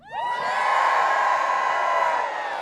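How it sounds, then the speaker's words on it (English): A large outdoor crowd at a veterans march in Washington, D.C. erupts in loud cheering, whoops and shouts that swell quickly and hold steady for a couple of seconds. "cheer for me if you are from Washington,"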